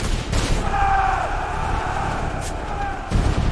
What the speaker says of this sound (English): More volleys followed.